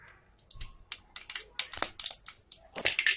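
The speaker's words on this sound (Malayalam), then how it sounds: "കടുക് ഒന്ന് പൊട്ടി വന്നിട്ടുണ്ട്" Rapid, irregular crackling pops of mustard seeds spluttering in hot coconut oil, close up, with no voices.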